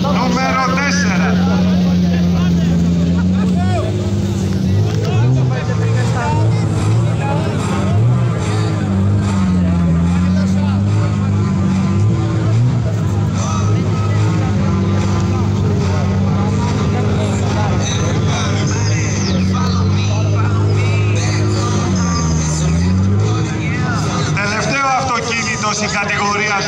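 Toyota Corolla drift car at a drift show, its engine droning loudly and rising and falling in pitch for nearly half a minute while an announcer speaks over it.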